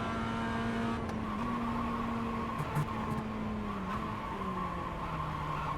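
A Mazda MX-5 race car in the iRacing sim brakes hard into a corner at Oschersleben, the engine note dropping through downshifts while tires squeal steadily, loud and close with no talking.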